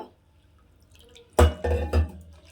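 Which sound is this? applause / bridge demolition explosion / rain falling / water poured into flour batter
water poured into flour batter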